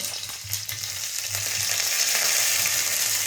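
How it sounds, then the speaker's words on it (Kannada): Curry leaves dropped into hot oil for rava upma crackle and sizzle steadily, the frying hiss swelling louder and denser toward the end, close and continuous with no voices. "ಕರಿಬೇವು ಹಾಕು. ನೋಡಿ, ಈ ಥರ ಸೌಂಡ್ ಬರಬೇಕು."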